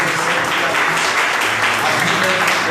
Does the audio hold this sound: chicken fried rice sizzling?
no